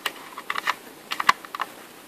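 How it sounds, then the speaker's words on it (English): Memory DIMM slides into the slot of a Lenovo ThinkCentre e93z, a series of small close plastic clicks and scrapes, light and irregular, with no talk. "to install the new one it's just a matter of sliding it in"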